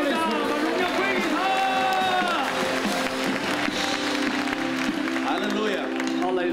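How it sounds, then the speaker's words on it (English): A church congregation claps during a worship service, the clapping mixed with crowd noise and sustained tones that run throughout, with voices present. "Clap your hands for the Holy Spirit."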